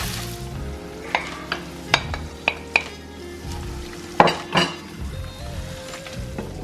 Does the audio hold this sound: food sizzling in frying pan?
yes